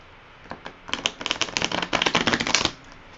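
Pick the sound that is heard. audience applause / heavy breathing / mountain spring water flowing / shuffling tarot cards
shuffling tarot cards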